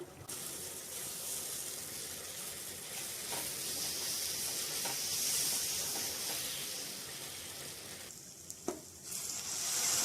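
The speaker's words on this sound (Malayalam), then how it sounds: "ബീഫിൻ്റെ കറി നല്ലോണം വറ്റിക്കാൻ ശ്രമിക്കുക." Beef curry with onion, tomato and masala reducing in a pan, giving a continuous even sizzle and bubbling hiss, with a couple of faint utensil clinks near the end.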